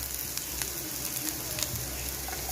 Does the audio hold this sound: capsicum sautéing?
yes